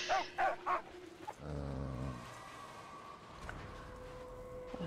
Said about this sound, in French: Le son d'ambiance du jeu est spécial, faut aimer les chiens en détresse